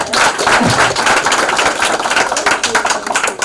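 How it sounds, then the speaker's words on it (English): An audience claps at a health institute graduation ceremony, a quick, dense patter of many hands that runs steadily throughout, with a voice speaking faintly beneath it. "So you want to clap for Mrs. Elizabeth?"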